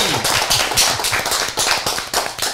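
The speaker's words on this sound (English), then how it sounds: "Let me get a round of applause" A small group in a studio claps in a quick, uneven burst of applause, sharp broadband hand slaps repeating densely throughout, fairly close and loud, with no voices over it.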